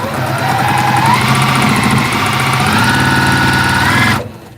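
A sewing machine running at about 450 stitches a minute gives a steady, close mechanical whir with a fast rhythmic chatter. It holds an even loudness for about four seconds, then stops abruptly.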